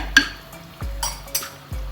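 A utensil stirs fish curry with fenugreek powder in a pan, with a few distinct scraping strokes and soft clinks against the metal, close by.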